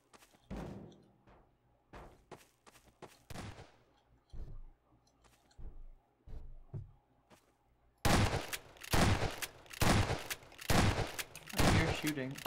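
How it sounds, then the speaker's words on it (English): Gunfire in Garry's Mod Prop Hunt: sparse sharp shots and short bursts at first, then a louder, denser stretch of rapid repeated fire in the later part, with faint voices in between. "I hear shooting."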